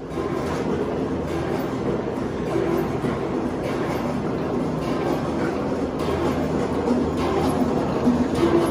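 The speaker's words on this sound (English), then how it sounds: "the way the step feeder works is that the steps go up and down and it pushes product up through" A stainless steel step feeder runs with its steps moving up and down, giving a continuous mechanical rumble with steady clattering and faint rhythmic knocks. The noise is loud and even throughout, with no voices.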